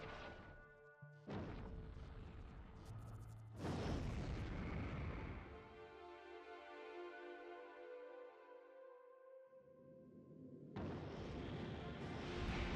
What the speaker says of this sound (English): I decided to hop into the rocket myself, launch into space